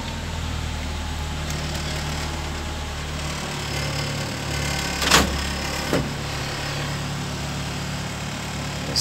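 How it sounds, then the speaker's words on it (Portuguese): A Ford Fiesta with a weak battery idles with a low, steady engine hum; a couple of short mechanical clunks break through midway. "Às vezes eu dou partida aqui e eu escuto girando."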